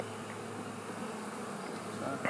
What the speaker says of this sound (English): two guard bees who don't like me